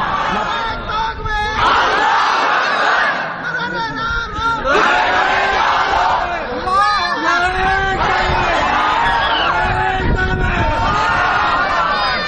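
A large congregation at an Islamic sermon roars takbir together, many voices shouting in loud, rising waves that fill the space and swell repeatedly.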